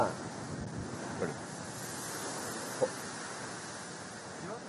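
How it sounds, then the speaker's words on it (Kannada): Heavy sea waves pound the Mangaluru coast during rain, heard as a constant broad roar of surf and wind blowing across the microphone, with a few faint thuds. "ಕಡಲ್ ಹೊಡಿಯೋದು."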